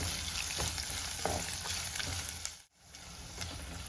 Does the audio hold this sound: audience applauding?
no